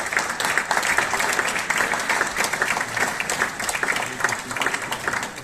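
Steady audience applause fills a rowing club's 30th anniversary ceremony, many hands clapping densely and evenly for several seconds at moderate loudness with no voices over it.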